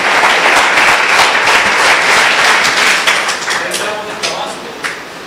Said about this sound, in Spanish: El pastor Pablo, un aplauso para Dios por la vida del pastor Pablo y su equipo